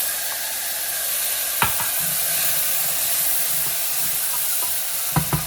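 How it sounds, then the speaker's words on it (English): Tomatoes for chana masala sizzle loudly in a hot frying pan, a steady hissing crackle close up, broken by a few sharp scraping knocks of a spoon stirring, with no talk. "Stir it up."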